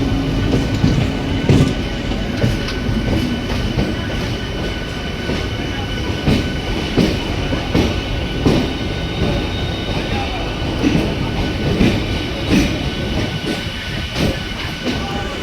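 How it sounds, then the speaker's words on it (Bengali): A train on the Katwa line bound for Nabadwip rumbles along steadily, heard from on board, with a loud continuous roar and repeated rhythmic wheel clacks. "এটা এখন নবদ্বীপ ট্রেন হচ্ছে"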